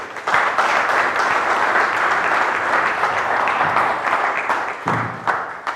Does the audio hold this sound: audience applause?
yes